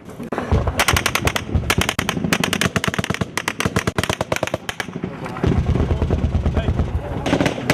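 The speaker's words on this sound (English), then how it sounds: "coalition troops and Afghan villagers took direct and indirect fire" Gunfire during a shura with coalition troops and Afghan villagers in Afghanistan: loud, rapid bursts of automatic fire and separate heavy reports, with shouting voices mixed in and some firing more distant.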